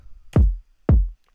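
Two deep, punchy hits of the Prada kick drum sample from the Cody kit, with a booming low tail, evenly spaced and played alone.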